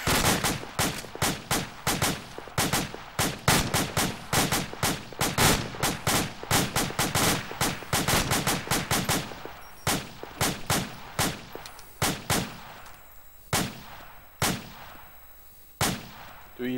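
Gunfire in a military video game set in Operation Enduring Freedom: rapid bursts and single sharp shots, dense and loud for the first ten seconds, then sparser, spaced cracks.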